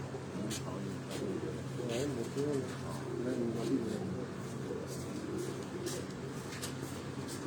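Pigeons cooing on a rooftop loft, soft repeated coos in the background while someone talks over them.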